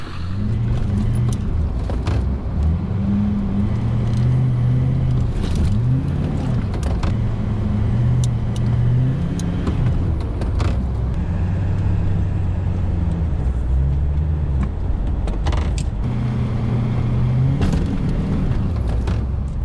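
A vehicle engine drones steadily and loudly up close as it rams and breaks through snow and ice piles, the rumble rising and falling with throttle changes, scattered with knocks and crunches from impacts.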